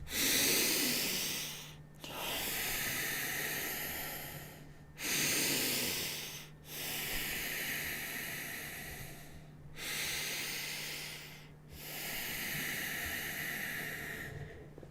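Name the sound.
deep breaths in and out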